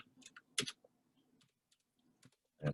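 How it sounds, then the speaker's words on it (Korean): Typing on a computer keyboard during a Python programming lesson, several quick sharp key clicks in short bursts with quiet gaps between them, close by. "저하고 똑같이 타이핑 치세요."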